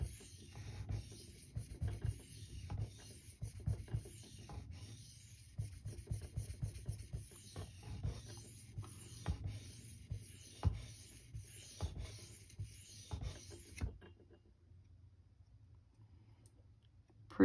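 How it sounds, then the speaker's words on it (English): Kitchen knife being sharpened on a King Neo 800 grit whetstone to raise a burr, a steady series of close, scraping strokes of steel across the wet stone that stop near the end, leaving quiet room tone. "We're trying to sharpen for a burr."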